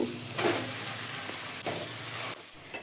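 Boiled banana flower dropped into spiced masala in a pan over low flame, a steady close sizzle with a couple of louder hissing bursts as it goes in and gets stirred.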